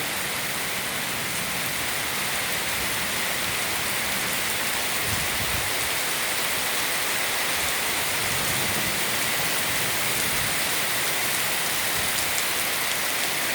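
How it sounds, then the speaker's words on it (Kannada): Heavy rain pours down in a dense, continuous roar, loud and steady throughout with no voices. "ನಮ್ಮೂರಲ್ಲಿ ಮಳೆ ಹೇಗೆ ಬರ್ತಾ ಇದೆ ನೋಡಿ ಎಷ್ಟು ಜೋರು ಬರ್ತಾ ಉಂಟು"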